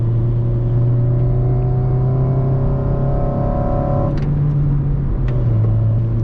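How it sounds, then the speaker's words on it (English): A 2008 Honda Civic Mugen Si with stiffened suspension is driven hard, its high-revving engine droning loud and steady from inside the car, pitch climbing gradually before a brief dip around a gear change. "with the high revving engine too, this car is just so fun to drive"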